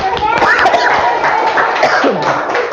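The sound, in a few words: class clapping hands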